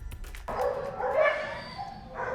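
Dogs at the overcrowded CARE STL Adoption Center shelter give sharp barks, yips and a whining whimper in a quick, close burst with no talking.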